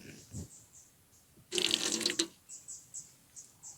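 A tap at a campsite sink gushes water briefly for under a second, then shuts off, with faint voices and soft bumps around it.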